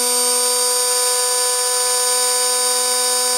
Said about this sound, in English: I just issue M5, and that makes the spindle relay go on and off